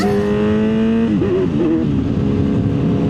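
Kawasaki Z900 motorcycle engine pulling hard at about a third throttle, a loud steady drone whose pitch climbs and then wavers as the bike accelerates through a gear change, close and continuous for the whole stretch.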